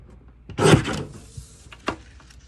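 A paper trimmer cuts card-stock pieces: one close, brief scraping slice of the blade, followed by a softer click a moment later, with no talking.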